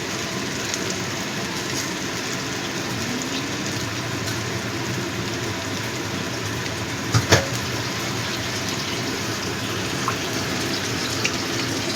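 Tap water runs steadily into a mixer grinder jar as it is rinsed out, a continuous close-up splashing wash with a couple of brief knocks partway through.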